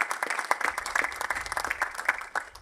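Audience at a university graduation ceremony applauding graduates: many hands clapping in a fast, dense patter with sharp individual claps, steady throughout and moderately distant.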